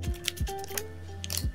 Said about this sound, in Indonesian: Kita gunting dulu catnya.